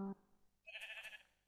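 A single quiet, close sheep bleat, a wavering nasal cry lasting about half a second, following a brief low tone in an otherwise still setting.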